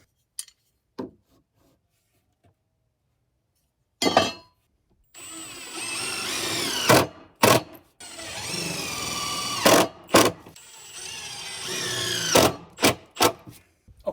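Power drill driving 3-inch self-tapping deck screws while building a freestanding deck, several loud close bursts of whirring motor and grinding bite, separated by pauses and short clunks.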